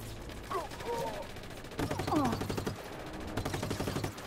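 Gunfire in the game Just Cause 3, rapid automatic bursts rattling almost nonstop, with brief voices shouting between volleys.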